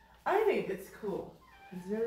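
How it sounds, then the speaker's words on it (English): A house cat gives a couple of close, drawn-out meows that overlap a man's quiet speech in a small room. "Sorry about the cat in the background"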